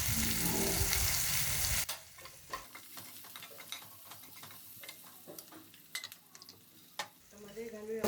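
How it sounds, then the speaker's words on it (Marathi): Ground masala paste sautéing in a pan for a fresh pigeon pea curry, with a steady near sizzle and frequent stirring scrapes and clinks running under it after a loud burst at the start. "आपण हा जो वाटलेला मसाला आहे तो छान आपण परतून घेऊ"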